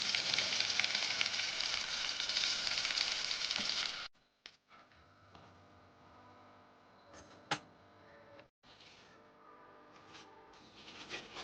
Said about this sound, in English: Fry ebi tempura for 5 to 8 minutes